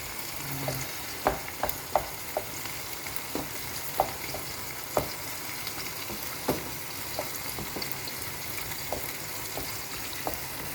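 Squash frying in a pan, with cheese about to go in for a pasta dish, sizzles steadily while a utensil stirs and scrapes, giving scattered sharp clicks and knocks against the pan.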